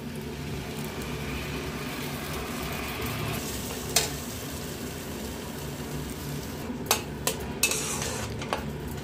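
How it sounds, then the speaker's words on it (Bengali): Cashew, raisin, green chili and yogurt paste is stirred in a pan over a low flame, a soft steady sizzle with a few light clinks of a utensil against the pan near the end. "লো ফ্লেমে এইটাকে একটু নাড়াচাড়া করতে হবে।"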